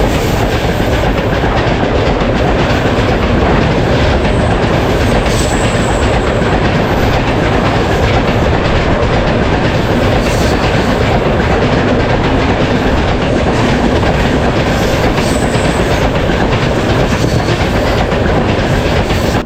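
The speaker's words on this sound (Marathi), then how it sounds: "कोणती तरी ट्रेन येते" A passenger train on the Konkan Railway rumbles past close by, its steady roar and clickety-clack of wheels over rail joints filling the whole stretch without a break.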